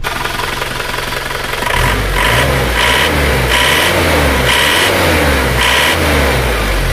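An Isuzu Panther engine with a rough-running fault and smoking oil filler idles roughly while cold, then revs up hard in repeated bursts, loud and close, with a throaty rumble between each blip of the throttle.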